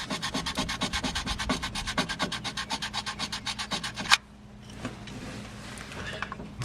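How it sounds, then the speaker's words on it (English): Rasp file strokes scrape rhythmically and close by on an old 1956 Chevy being revived, about two per second for four seconds, then stop, leaving faint rustling. "More filing."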